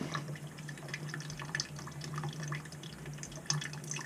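Water trickles and drips steadily from the drain of a circulator pump on a Navien combi boiler, a faint continuous wash with small splashes throughout and no talking.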